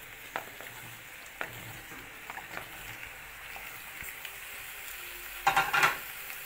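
A utensil stirs zucchini and onion in a frying pan while a soft, steady sizzle continues underneath, with a few light scrapes and clinks and a louder cluster of metallic taps near the end.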